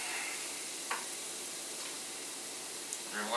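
Onions hit a hot pan while making pasta, giving a steady, broad sizzle with a few faint ticks and crackles over the top, fairly quiet and continuous throughout.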